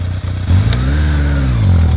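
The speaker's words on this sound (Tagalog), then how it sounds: "sinakyan na niya ang motor para subukang paandarin" A motorcycle engine catches after a brief starter crank and revs up strongly, holding a loud, rising and falling mid-pitched roar close by.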